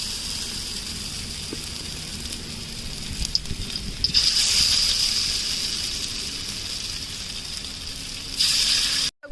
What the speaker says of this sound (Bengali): একে সব কোপ্তাগুলো আমি এরকম ভেজে নেব।